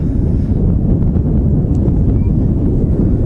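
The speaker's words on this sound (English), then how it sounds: "Yeah, it is pretty windy, isn't it," Strong wind roars steadily at an outdoor spot beside the Manchester Airport runway, a constant loud low buffeting against the microphone with no clear voices.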